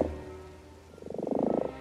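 A toad gives a rapid pulsing croak, a trill of quick repeated notes that swells up after a quieter start, heard close and alone.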